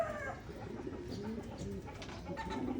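Pigeons coo and call busily in a Filipino pigeon loft, overlapping throaty rolls and bursts repeating close by, with a faint cluck-like note mixed into the flock noise.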